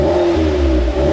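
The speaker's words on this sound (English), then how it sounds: "Give it a rev, Michael." Car engine fitted with an induction kit and stock exhaust revving steadily up close, a loud continuous drone held for about a second with no talk over it.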